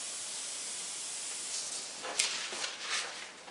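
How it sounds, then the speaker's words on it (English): Water misted from a spray bottle onto a paper stencil: a few short, soft hissing spritzes in quick succession over a quiet background, fairly close. "Mist this in."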